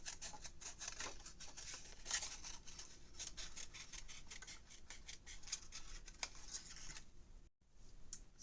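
Scissors snip through paper to cut out a giraffe head, a quick run of soft, close, rhythmic crisp cuts with light paper rustling, quiet overall, pausing briefly near the end.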